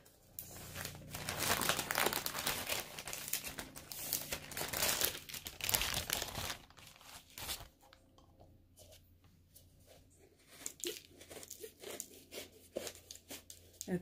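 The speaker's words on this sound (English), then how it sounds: "I have a plastic bag to put the brushes until I can wash those." A plastic bag crinkles and rustles close up as paintbrushes are put into it, busy and loud at first, then softer scattered crackles; a voice talks over parts of it.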